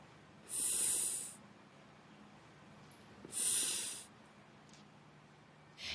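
Two long breathy puffs blown into a casualty's mouth during CPR rescue breathing, each lasting under a second with a pause between them, close and fairly quiet, with a third breath just beginning at the end.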